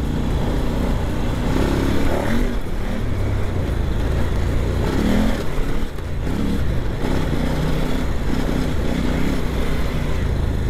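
A KOVE 800 Adventure motorcycle engine labours uphill in third gear, a steady loud drone with uneven throttle swells as the clutch is slipped, close and continuous, no talk over it.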